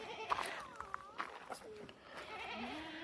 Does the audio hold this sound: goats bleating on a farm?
yes